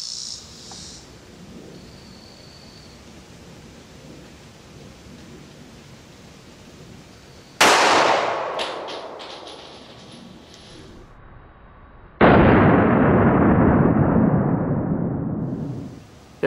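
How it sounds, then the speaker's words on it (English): A 9mm Underwood Gold Dot round fired from a Glock 19 into a gel block with denim layers at ten feet: one sharp loud report, then a second loud broadband burst decaying over several seconds, with no talk. "There's the shot from 10 feet with the Glock 19."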